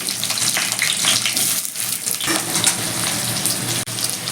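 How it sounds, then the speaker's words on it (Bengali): Chopped onion with bay leaves fries in hot oil, a dense continuous sizzle and crackle held close and loud throughout, with a faint clink near the end. "পেঁয়াজটা দিয়ে দিচ্ছি"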